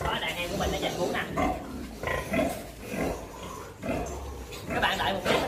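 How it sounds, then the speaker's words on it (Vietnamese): Piglets squealing and grunting as they jostle to suckle from a sow on a pig farm, a continuous noisy chorus close by. "Đó, đàn heo của mình nó giành bú nè."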